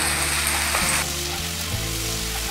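Ginger garlic paste sizzling in hot oil with fried chopped onions while a Bengali catfish and brinjal curry is being made; a steady close frying hiss runs throughout, with a few low thuds and stirring scrapes.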